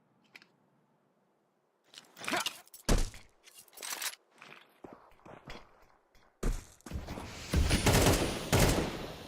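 Rapid gunfire in a Counter-Strike-style esports match, scattered bursts and single shots with thuds and clicks, moderately loud and irregular after a quiet start.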